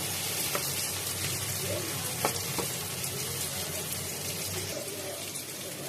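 Paneer and chopped raisin stuffing for vegetarian potoler dorma sizzles steadily in a frying pan while being stirred, a continuous close frying hiss with a few light scrapes and clicks and no talk.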